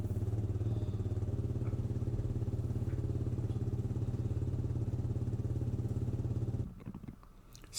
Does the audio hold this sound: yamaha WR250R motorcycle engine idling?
yes